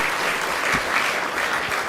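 Dense, steady applause from a seated audience at the close of a talk on avoiding stress, with many hands clapping evenly at close range and no voices over it.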